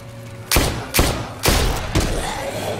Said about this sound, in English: Why the fuck are you shooting me?